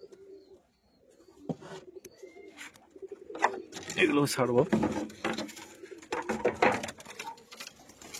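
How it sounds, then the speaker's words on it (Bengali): Pigeons in a loft give soft, low coos amid fluttering and scuffling, growing busier partway through, with people talking nearby. "নিচে কবুতর আছে"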